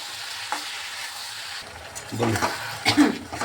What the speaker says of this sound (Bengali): এখন এটা ভালোভাবে একটু কষিয়ে নিচ্ছি